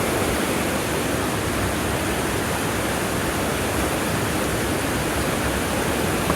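Rushing water begins flowing through an old hydroelectric plant over a century old. It comes as a steady, loud broadband roar, like a waterfall, that stays constant throughout with no voices.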